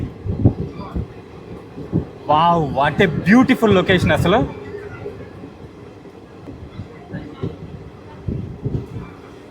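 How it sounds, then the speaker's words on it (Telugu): A train rumbles past close by on a bridge over the sea, a steady low rolling noise with a louder burst partway through, while a person talks excitedly over it. "ట్రైన్ వెళ్తుంది పక్కనే"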